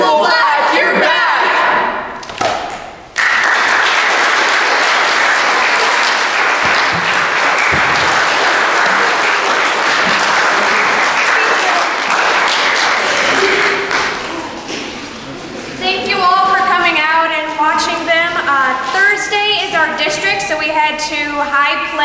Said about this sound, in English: let's give them one more round of applause for all their hard work